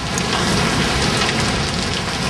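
Heavy rain pours steadily during a thunderstorm in Tempe, a dense, loud roar of falling water with thunder rumbling underneath, continuous throughout with no voices.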